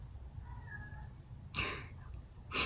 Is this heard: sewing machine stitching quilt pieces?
no